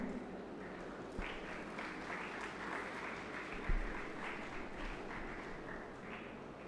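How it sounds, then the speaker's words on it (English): Audience applause at a college orientation programme at LNMIIT Jaipur, welcoming a speaker to the stage: steady, moderately distant clapping from a large hall crowd that holds for the full length, with one sharper clap near the middle. "Please welcome her with a huge round of applause."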